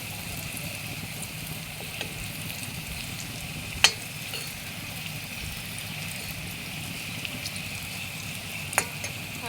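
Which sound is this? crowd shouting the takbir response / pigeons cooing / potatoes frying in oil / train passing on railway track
potatoes frying in oil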